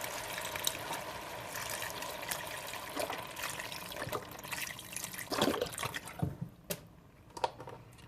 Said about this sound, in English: now we're going to add our chicken broth. We're going to do 2 cups of chicken broth.